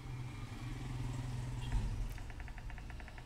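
A car engine in Call of Duty Mobile battle royale hums steadily at low volume, a distant idling drone with faint game sounds and a quick series of ticks toward the end.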